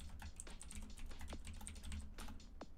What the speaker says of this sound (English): Oh no, you can hear my keyboard.